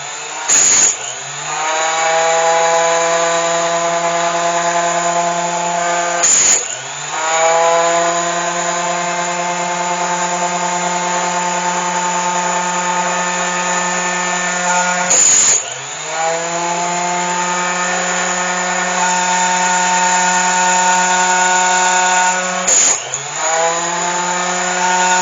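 Power trimmer steadily cutting .223 brass cases down to 300 Blackout length, a loud continuous motor whine with harmonic hum, broken by four sharp bursts as each case is fed against the guard and stop.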